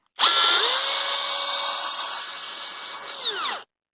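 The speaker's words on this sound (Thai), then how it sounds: "มาฟังเสียงมอเตอร์กันหน่อยครับ" A Masaru SCDI-105 20V cordless impact drill motor whirs up to a steady high-pitched whine, holds for about three seconds, then winds down and stops.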